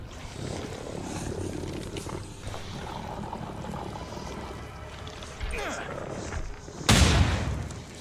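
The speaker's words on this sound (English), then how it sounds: "let's try a grenade" A grenade explosion in the horror video game The Sinking City, a single loud close boom erupting near the end after a stretch of ambient game noise and rumbling.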